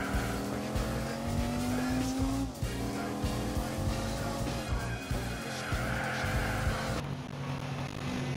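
Engine drone and tire noise from a legendary car racing in Gran Turismo 4 on PS2, a steady loud motor whine with shifting pitch and gear changes, faint squeal at moments, running continuously without talk.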